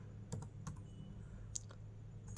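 Quiet computer keyboard typing, a handful of soft, sparse key clicks spaced irregularly over a faint steady hum, close by and alone without any voices.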